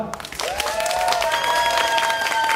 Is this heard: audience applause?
yes